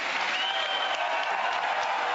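A studio audience claps steadily and continuously as a show of support in a televised poll, the dense applause filling the room at even strength with no pauses throughout.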